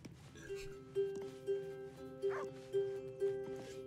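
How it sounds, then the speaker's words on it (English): A dog in Baldur's Gate 3 gives a run of short, evenly spaced yips or barks, about six in a row, over a soft game background. "That dog. Oh no, the dog's ready for battle now."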